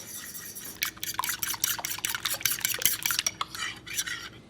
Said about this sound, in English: take a fork or a whisk, and we're going to mix this up really well